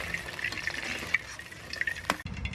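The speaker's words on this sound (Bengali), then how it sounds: "এইভাবে একটু লাল করে ভেজে নিয়েছি" Small pieces of sweet dough for sitabhog fry in oil until reddish, with a close, steady bubbling sizzle and a soft scrape near the end, alone and without talk.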